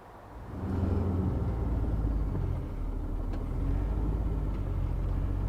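A 2016 DAF grab lorry's engine runs steadily nearby, a continuous low diesel rumble that swells up within the first second and then holds, with faint clanks over it.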